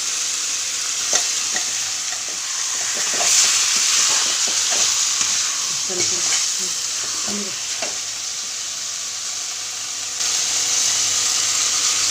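Chicken sizzles and fries in a hot pan with ginger garlic paste for a Tamil-style chicken thokku, with steady frying hiss and a spoon repeatedly scraping and stirring throughout, no talking.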